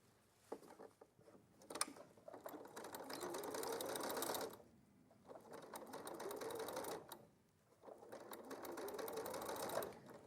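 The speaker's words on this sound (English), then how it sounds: "lift the presser foot up and sort of manoeuvre it round" A sewing machine stitches through layers of fabric in three steady, loud motorized bursts, each separated by a brief pause, with no voices.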